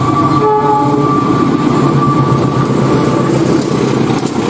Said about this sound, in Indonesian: di sini ada lokomotif kereta api Indonesia